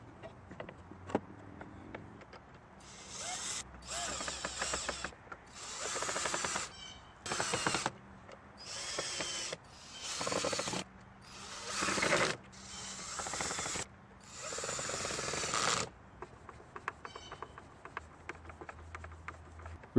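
Screws being driven into the housing of a Craftsman leaf blower, with repeated bursts of close ratcheting and whirring, several seconds each, separated by short gaps and faint handling noise.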